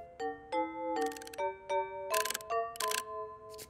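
Kitchen timer being set in a cartoon kitchen, giving a series of bright electronic chime tones stepping in pitch, with short bursts of clicking between them.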